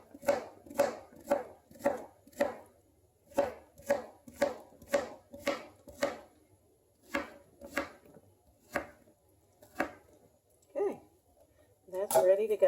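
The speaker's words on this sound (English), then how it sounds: "Chop off the top. Cut it into fourths." A knife chops through zucchini on a cutting board for corn and zucchini chowder, with about a dozen crisp, evenly spaced thuds that later come more slowly and unevenly, close and clear.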